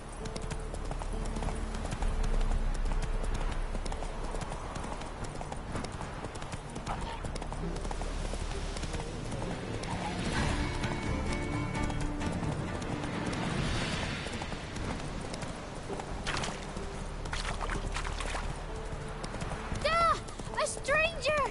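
In The Witcher 3 video game, Roach the horse gallops steadily with a rhythmic clip-clop of hooves, accompanied by game music and ambience, while character voices speak over it.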